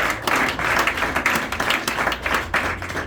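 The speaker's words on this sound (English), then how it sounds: "A round of applause for George." A theatre audience at a card magic show in Nashville gives sustained applause, dense steady clapping filling the room throughout.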